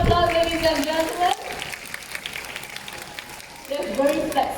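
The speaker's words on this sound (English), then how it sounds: "give him a big round of applause, ladies and gentlemen" An audience claps at a bird show at Jurong Bird Park. A burst of steady, crowded clapping rises between stretches of an amplified announcer's voice.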